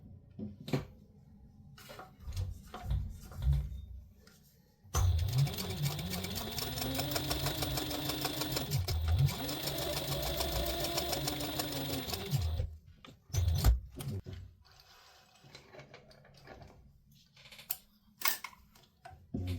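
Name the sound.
sewing machine stitching a fabric wallet seam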